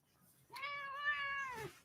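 A house cat lets out one drawn-out, clear meow that rises and then falls, heard close up against a quiet room with no one talking.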